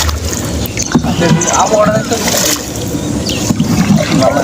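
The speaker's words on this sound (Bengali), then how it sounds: "চলতে শুরু করছে আমাদের নৌকা" A boat glides along the Brahmaputra river with soft splashing and a steady low hum, faint voices mixed into the background, on a monsoon afternoon.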